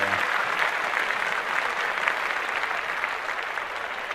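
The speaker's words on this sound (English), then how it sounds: "Let's clap that up immediately." Steady applause from a crowd in a podcast studio, a sustained, even roar of many hands clapping at moderate loudness for several seconds without letting up.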